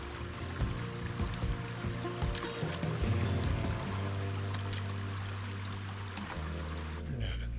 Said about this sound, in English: and then we're gonna go fill up some water.